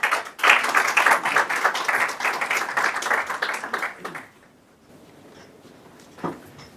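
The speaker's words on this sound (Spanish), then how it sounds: "les pido un caluroso aplauso de recepción" Warm welcoming applause from an audience at a microfinance network annual assembly, a dense crowd clapping for about four seconds before fading into quiet room tone with one faint late thump.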